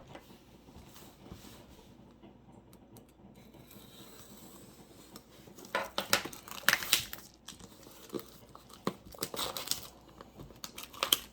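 Packaging of a Warhammer 40K Space Ork Beast Snagga army box being torn open, quiet rustling at first, then louder bursts of crinkling and ripping cardboard and plastic, close up with no voices.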